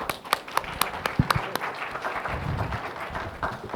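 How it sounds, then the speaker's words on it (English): Sparse hand clapping from a small audience welcoming an invited speaker at a networking camp talk session, distinct separate claps rather than a full roar, brief and moderately close. "please welcome him with a big applause"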